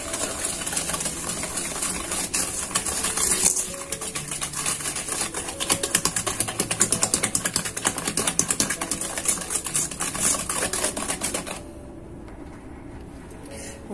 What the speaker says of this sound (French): soit à l'aide d'un fouet électrique